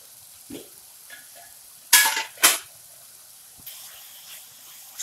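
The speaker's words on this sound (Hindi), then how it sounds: "2 से 3 मिनट तक मीडियम फ्लेम पे भूनेंगे। चलाते हुए हम भूनेंगे" Tomatoes stir-fried in a pan on a medium flame: a low background sizzle with a few scraping stirs, two louder spatula scrapes in the middle, close and otherwise quiet with no talk.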